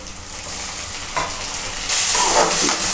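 Chopped tomatoes hit a pan of onions frying golden brown for Tamil mutton curry kuzhambu, bringing a sudden loud sizzle and hiss with scraping stirs, the frying swelling sharply partway through, close up with no voices.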